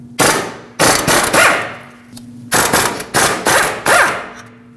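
Bursts of a pneumatic impact wrench loosening the 19mm caliper mounting bolts on a Nissan Frontier, two groups of three to four loud, close rattling hammer bursts separated by brief pauses, with no talking.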